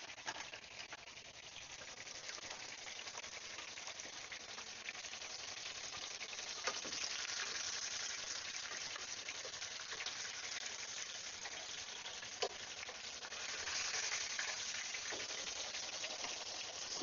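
Beef searing in a hot pan, a steady broadband sizzle and hiss running evenly throughout, with a few faint pops and crackles and no voices.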